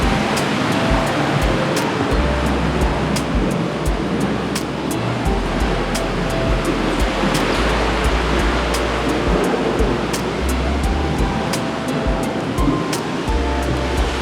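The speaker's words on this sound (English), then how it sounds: "you have a rinse waterfall shower here." Rinse waterfall shower running aboard the Ovation of the Seas cruise ship, a loud steady rush of falling water with faint clicks throughout, no talk.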